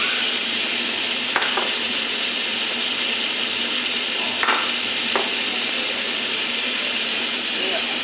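Hog plum and tomato frying in a pan for chutney, giving a steady broadband sizzle throughout with a few brief clinks of stirring.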